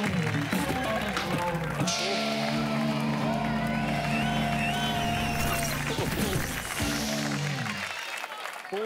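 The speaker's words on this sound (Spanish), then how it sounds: "Un aplauso para Jorge Ponce, que ya no nos oye." A studio audience on a late-night comedy show in Ibiza gives loud, sustained applause with cheers and whoops, and voices are mixed in.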